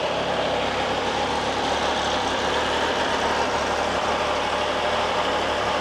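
A 2024 MV Agusta F3 RC sport motorcycle engine idles smoothly and steadily nearby, a continuous even drone with no revving.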